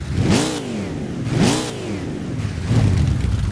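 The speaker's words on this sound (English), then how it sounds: "there were a lot of expectations on the sounds of cars in the lead up to release" Car engine in the racing game Gran Turismo 6 revving in repeated surges, rising and falling sweeps with a loud, close tone, then settling into a steadier drone, with no talking.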